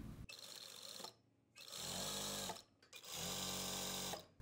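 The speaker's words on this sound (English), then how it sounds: "So sew in the same way all around." A sewing machine stitches all the way around a fabric strip for a designer dupatta, running in two long, steady whirring bursts with short pauses between them, close and clear.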